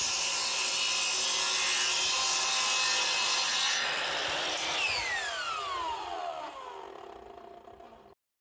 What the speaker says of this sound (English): Then we turn our miter saw to 30 degrees and cut the end of the 5 foot piece.